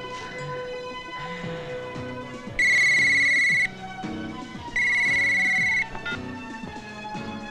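A telephone ringtone chimes in two loud, sustained bursts, with a quieter melodic tone in between, clear and close with no talking.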